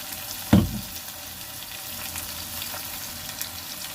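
Onions frying in a pan for a homemade biryani, giving a soft, steady sizzle after a brief loud clatter near the start, with no talking.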